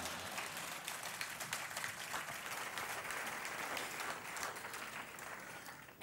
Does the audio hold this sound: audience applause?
yes